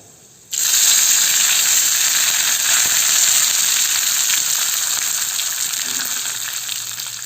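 Loud, steady sizzling of curry leaves dropped into hot oil, starting abruptly and crackling continuously, gradually easing slightly toward the end.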